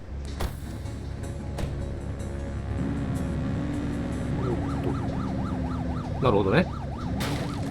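A police car siren in The Precinct starts wailing partway through, rising and falling over a running engine and thuds, while someone briefly speaks.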